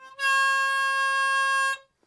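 A single sustained harmonica draw note on the fourth hole, bent down a half step, held steadily for about a second and a half, clear and close with no other sound.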